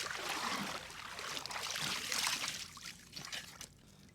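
Cold water trickles and splashes softly in a rock-cut cistern at Brahmagiri fort, a faint, uneven dribbling with a brief louder surge near the end, quiet and close with no talking.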